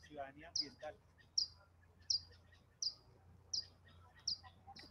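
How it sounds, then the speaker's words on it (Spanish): Birds sing in a botanical garden: a series of short, high chirps repeats at a steady pace, fairly faint against a low background hum, with a little talk at the very start. "Mira, se están escuchando los pájaros."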